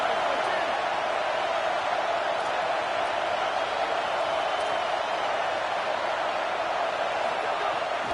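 Steady, dense roar of a stadium crowd at a college football game, Ohio State Buckeyes home game, continuous and loud throughout with no distinct breaks.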